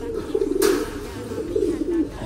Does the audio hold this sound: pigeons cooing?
yes